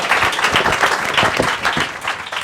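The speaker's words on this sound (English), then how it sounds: "panelists a big round of applause" A conference audience applauds panelists at an Arctic policy event, a loud, steady, even roar of many hands clapping up close for a couple of seconds.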